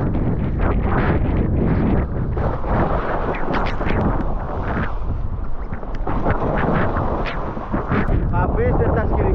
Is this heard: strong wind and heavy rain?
yes